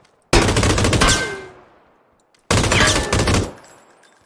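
Two loud, close bursts of machine gun fire in PUBG, each about a second of rapid shots that trail off into a fading echo, separated by a short silence.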